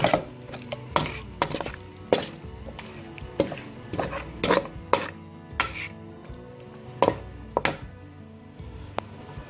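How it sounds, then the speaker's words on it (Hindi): A metal spoon scrapes and clanks against a pan while chicken karahi with green chillies is stirred, giving sharp irregular knocks and scrapes, fairly close, with no talking over them. "इस सबको मिक्स कर देंगे अच्छी तरह।"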